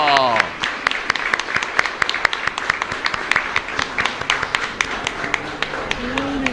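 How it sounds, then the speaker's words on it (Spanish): Congregation applauding at Mass in the old chapel of San Antonio, a crisp round of clapping with distinct sharp claps in an echoing space, with a few voices murmuring briefly at the start and end. "Bueno, un fuerte aplauso."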